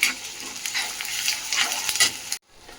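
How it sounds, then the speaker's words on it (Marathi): Onion with ginger-garlic paste sautéing in a pan, a steady broadband sizzle with scraping stir strokes throughout, alone and without talk, cutting off abruptly near the end into near silence. "कांदा टाकूया लगेच आणि मस्त परतून घेऊया छान"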